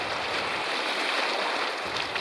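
Class 1 rapids on the Missinaibi River in Northern Ontario rush past a kayak, a steady, close, broad hiss of churning water with no voices.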